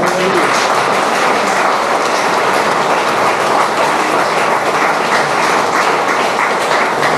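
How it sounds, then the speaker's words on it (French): Dense, steady applause from a church congregation honoring the worship team, a broadband wash of many hands clapping loudly and continuously without a break. "Applaudissons le Seigneur pour l'équipe."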